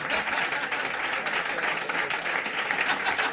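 Sustained applause from a jazz concert audience, a dense steady wash of clapping filling the whole stretch at even loudness.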